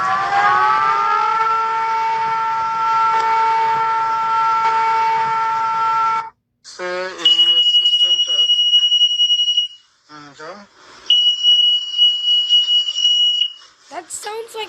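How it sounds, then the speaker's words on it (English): An alarm that resembles a fire alarm sounds loudly: a steady, buzzing tone holds for about six seconds, then gives way to shrill, piercing high-pitched beeps in separate bursts with brief gaps. "That sounds like one of my fire alarms"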